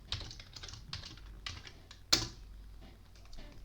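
Keystrokes on a computer keyboard as login details are entered, a quiet run of irregular taps with one sharper, louder strike partway through, close and alone.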